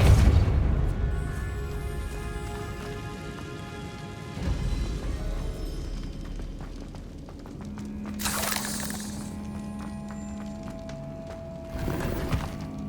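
In the video game Hogwarts Legacy, the Confringo explosion spell produces two sharp, bright bursts over a rumbling battle soundscape with a tonal hum between them, and no voices.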